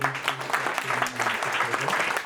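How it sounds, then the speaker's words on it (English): An audience applauds at a teach-in session on immigrants' struggles, with steady, dense clapping throughout and a voice speaking under it. "So another round of applause for all these"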